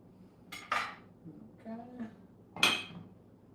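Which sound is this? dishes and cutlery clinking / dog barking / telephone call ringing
dishes and cutlery clinking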